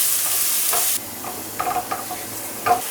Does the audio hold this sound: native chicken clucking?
no